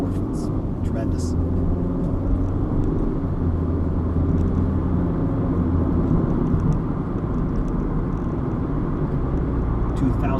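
A car cruising at about 41 mph with the engine near 2,000 RPM settling toward 1,650 produces a steady low cabin rumble and road drone throughout, with speech tagged over it.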